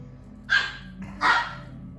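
Two sharp puppy barks in quick succession, close and clear, with a short pause between them and quiet background otherwise.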